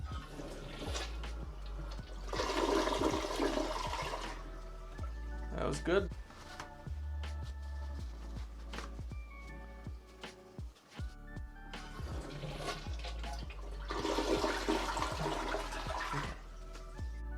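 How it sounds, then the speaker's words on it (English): A toilet being flushed after augering a plugged drain, with loose paper sent down, roars in two strong surges of rushing water and refilling gurgles, with a short spoken comment between them. "And we'll give it a flush."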